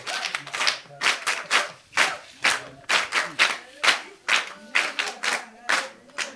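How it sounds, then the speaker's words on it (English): An audience at a primary school academic debate claps in a steady, rhythmic unison pattern, with about a dozen sharp, evenly spaced claps that are loud, close and heard alone. "Brilliant, you can applaud for yourselves again."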